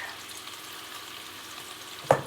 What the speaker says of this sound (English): So my pan is full. I am going to let these cook